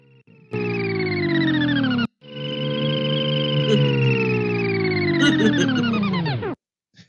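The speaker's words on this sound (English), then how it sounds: "So when you turn on the ship, it just sounds like this here." A synthetic electronic hum of a video game spaceship switching on, cuts out briefly, then resumes as a layered tone whose pitch slowly sinks before stopping abruptly.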